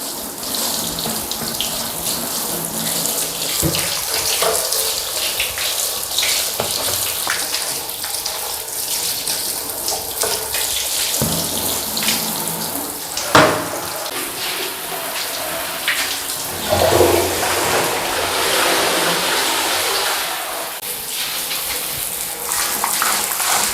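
Tap water runs steadily into a sink while things are scrubbed with laundry soap during house cleaning, a continuous gushing splash broken by brief knocks and shifts in the flow.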